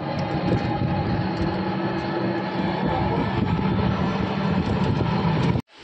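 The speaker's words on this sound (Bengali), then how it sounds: "ট্রেনে উঠে পড়লাম, ট্রেন রাইট টাইমেই আছে" Steady rumble and rattle of a passenger train in motion, heard from inside a carriage as loud, continuous rolling noise that cuts off abruptly near the end.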